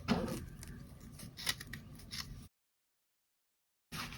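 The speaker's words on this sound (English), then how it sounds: "All right, so we're gonna cut that right there." Scissors snipping through craft material for Dollar Tree Easter egg bunnies, a few close crunchy cuts over about two seconds, then silence and a brief return of sound.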